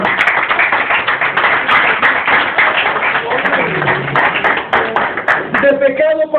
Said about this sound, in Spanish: Den un aplauso al Rey de Reyes en esta mañana.